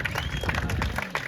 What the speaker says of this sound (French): je crois qu'on va applaudir très très très fort les étudiants de BTS